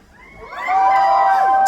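A fan-meeting audience lets out a loud, rising cheer and scream that swells in under a second and holds at full volume, a dense crowd of mostly high voices.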